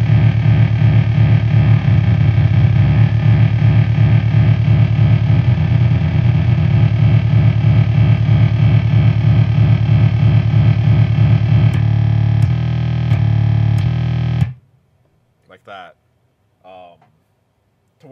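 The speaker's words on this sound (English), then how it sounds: "So you can end up with some pretty cool kind of phasey sounds with that." Heretic Effects Drone Box drone synth producing a loud, sustained, phasey droning tone with slightly detuned layers clashing and beating against each other, abruptly cutting off near the end, followed by a few brief faint sounds.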